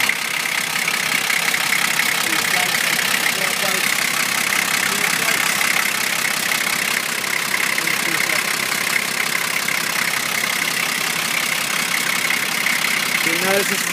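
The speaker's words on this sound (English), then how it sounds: "You notice it's running beautifully." A Toyota Troopcarrier turbo diesel engine idling, a steady, even rumble with a faint rattling texture, heard close and continuous throughout.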